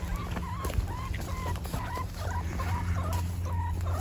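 Chickens kept on a Florida tropical fruit farm give short, repeated clucking calls at moderate distance over a low, steady outdoor hum.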